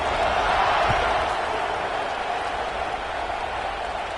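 In the College Football 26 video game, a stadium crowd roars at kickoff in a Georgia Tech versus Penn State game, a broad, steady wash of distant cheering that swells slightly at the start and holds without letup.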